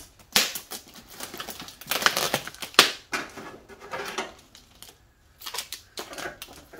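Clear packing tape crackles and rasps in uneven bursts as it is pulled off the roll and wrapped around a cut plastic jug used for winter seed sowing in a backyard garden, with short pauses between pulls.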